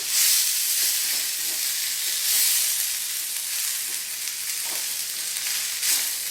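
Spices frying in a hot pan for a vegetarian githeri, a steady close sizzle with continuous bright crackle and occasional stirring scrapes, loud and unbroken throughout with no voices.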